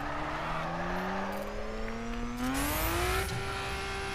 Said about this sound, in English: See, look, my Mini Cooper doesn't drift like this.